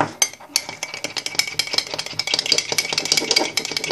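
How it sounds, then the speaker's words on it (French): Nutella mug cake batter stirred in a mug after a short minute of cooking, a close, continuous scraping and clinking of a utensil against the sides with irregular taps, no talking. "On mélange."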